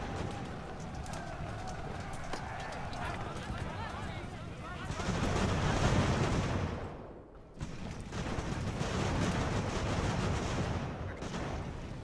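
Artillery fire during a naval battle in Ultimate Admiral: Age of Sail, a dense continuous roar of booming shots and crackling bursts that swells midway, briefly drops out, then returns at full intensity.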